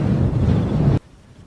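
Wind gusts across a volcano crater on Easter Island on a dull, showery day, roaring hard against the microphone for about a second before dropping suddenly to a quiet hush.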